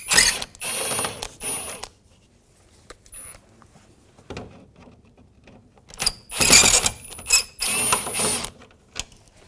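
Phillips head screws being backed out from under the center lower grille of a 2006-10 Volkswagen Jetta, giving close, loud bursts of ratcheting mechanical clicks separated by short pauses, with no talking.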